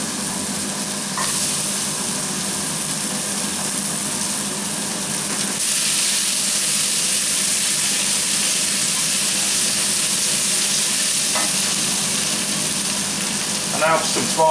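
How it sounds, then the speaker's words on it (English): Parsnips and carrots caramelise in a hot pan for a beef and ale stew, giving a loud, close sizzle and hiss that swells sharply about halfway through, with a few faint clinks of stirring. "I like to caramelise my parsnips and onions."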